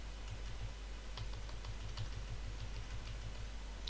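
Computer keyboard keys are tapped in quick irregular clusters, close and clear over a low steady hum from the machine, with no voices.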